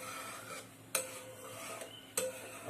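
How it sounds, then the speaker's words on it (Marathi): A utensil stirs and scrapes thickening milk around the sides of a pan while making mango barfi, a soft continuous rubbing broken by two sharper scrapes, close and quiet with no talk. "साईडने सारखं आपल्याला दुधाची साय काढत राहायची।"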